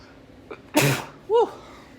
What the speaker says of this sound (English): I'm recording and I gotta sneeze.